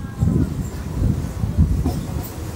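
Local commuter train on the Sealdah–Dankuni line pulling into a station at Bally, giving a steady, close low rumble with faint rhythmic clatter throughout.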